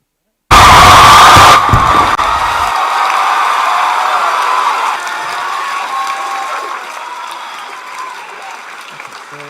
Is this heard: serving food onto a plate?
no